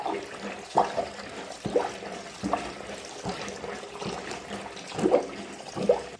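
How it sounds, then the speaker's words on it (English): A sink drains after being plunged with a plunger while its overflow is closed, making close gurgling water sounds in irregular bursts with a few louder glugs. "that's already draining quite nicely"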